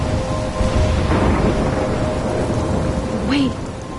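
Heavy rain and rolling thunder from a storm in the video game Life is Strange fill the scene with dense, steady noise. A rumble swells early on, and a brief sharper sound comes near the end.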